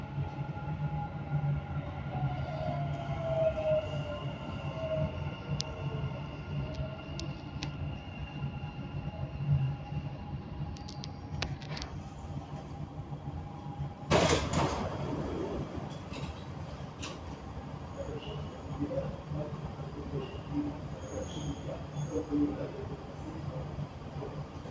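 A Dubai Metro train rolls along toward Rashidiya with a continuous hum and rumble of the car, steady hiss throughout, and a sharp brief burst of noise near the middle; no talk is heard.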